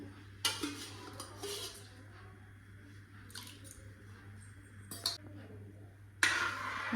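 Scraping and clinking of a utensil in a cooking pot of rice and split green gram for payasam, with a few louder stirring strokes spaced across a steady background hum; no talking.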